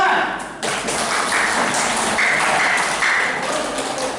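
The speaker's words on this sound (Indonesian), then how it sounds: "Tepuk tangan." A classroom group applauds during a teaching practice session, giving steady, dense clapping that fills the whole stretch at a moderately loud level, with a few brighter claps standing out.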